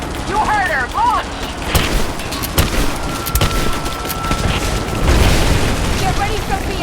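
A trebuchet fires during a boss fight in Rise of the Tomb Raider, a heavy booming launch mixed with mechanical creaks and game effects, with voices talking over the loud, dense soundscape.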